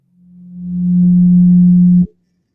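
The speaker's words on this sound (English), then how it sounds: "First, let's listen to what the 180 total degrees contained in a triangle sound like." A pure 180 Hz sine tone, standing for a triangle's total degrees, swells in smoothly, holds steady and loud for about two seconds, then cuts off cleanly.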